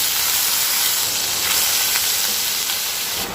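Onion paste added to hot mustard oil with cumin seeds, producing a loud, dense, continuous sizzle close to the pan that stays even throughout, with no speech.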